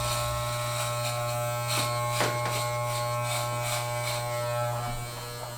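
Electric hair clippers fitted with a guard hum steadily at close range while fading hair at home, their even buzz broken only by faint scraping passes through the hair.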